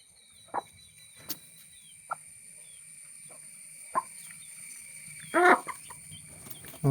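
Fighting-breed chickens with a hen, five chicks and young roosters cluck in short, separate calls spread over a quiet farmyard, with a sharper burst of clucking near the end and no talking.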